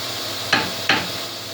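A nut tip on a Ford Fusion rear hub assembly is staked with two sharp hammer blows about a third of a second apart, close and metallic, alone.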